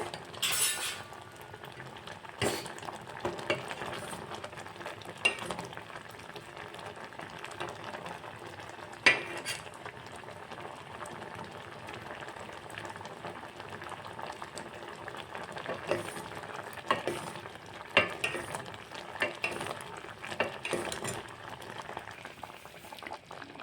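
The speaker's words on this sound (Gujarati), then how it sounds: "પાંચ મિનિટ થવા દઈશું અને આપણે એક તારની ચાસણી બનાવવાની છે" Sugar syrup simmering on a medium gas flame for instant cut raw mango pickle, being stirred: a steady low bubbling hiss with scattered clinks and scrapes of a spoon against the pan, close and fairly quiet.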